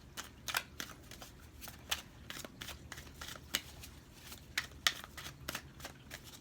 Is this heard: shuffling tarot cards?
yes